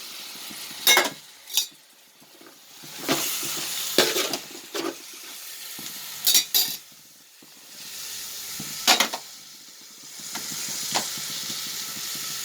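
Ginger garlic masala for mutton biryani sizzles in a pan with a steady hiss, and repeated scraping stir strokes sound out in bursts of louder frying.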